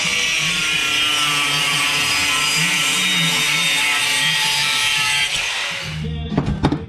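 Old scrap metal pieces being cut into mount blanks with a power saw, a loud continuous grinding, rasping cut running steadily for several seconds before stopping, followed by a few short clanks and knocks as pieces are handled.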